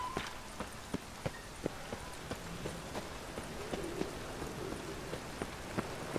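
Steady rain falls in The Witcher 3: Wild Hunt video game, a faint wash under a regular series of hoof-like clopping thuds.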